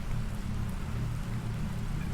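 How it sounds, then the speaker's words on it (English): Sulfuric acid rain falls in The Planet Crafter game world, a continuous dense hiss of rainfall over a heavy low rumble, steady and fairly loud with no voices. "Is that rain I'm hearing?"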